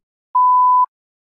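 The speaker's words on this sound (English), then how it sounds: "Please begin speaking after the beep." A single clean electronic prompt beep from a TOEFL speaking practice test, a steady pure tone lasting about half a second, loud and alone in silence.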